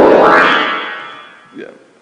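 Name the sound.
computer-generated chromatic tones following the Fibonacci series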